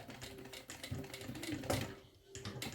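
A sewing machine stitches a zipper onto a bag in short, rapid mechanical bursts of clatter with brief pauses, close and fairly quiet.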